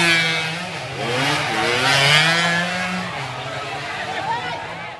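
Racing motorcycles at a road race on the Galonta circuit roar past with rising and falling engine pitch, loud and continuous over crowd noise.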